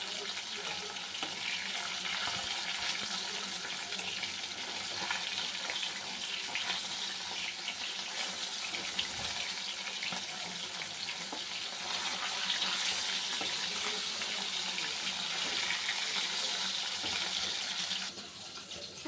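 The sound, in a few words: fish frying in hot oil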